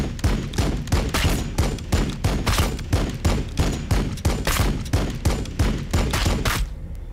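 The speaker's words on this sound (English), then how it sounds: "Firing on the enemy." Rhythmic gunfire in the Warhammer 40K Battlesector video game, a steady stream of evenly spaced heavy shots, about three per second, loud and continuous before tapering off at the end.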